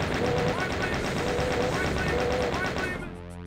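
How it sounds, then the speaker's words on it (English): The BFG fires in the video game Voxel Doom 2 with a loud, continuous stream of rapid weapon blasts and whining tones that fades out abruptly near the end. "I think we can use the BFG"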